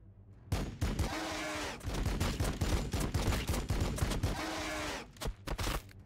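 Units fire weapons in Warhammer 40K Battlesector, a dense volley of rapid gunshots and heavy bursts rattling almost continuously for several seconds, then breaking into a few scattered final shots.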